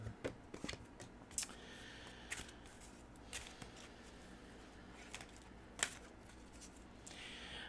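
Tarot cards are shuffled in soft, quiet bursts of riffling and tapping, scattered through a hushed room with no talking.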